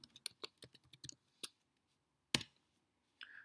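Rapid bursts of typing on a computer keyboard, a quick run of close clicks followed by a pause, one sharp louder keystroke and a final short clatter.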